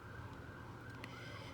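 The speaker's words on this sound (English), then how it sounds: "Oh, sirens. Yeah, emergency." Emergency vehicle sirens wail outside, faint and distant, holding a steady tone throughout with no voices over them.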